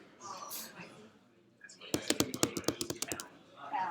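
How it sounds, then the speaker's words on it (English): An email address is typed on a computer keyboard as a quick run of about a dozen crisp, close key clicks. Soft speech is heard before and after the typing. "you'll type in their email address"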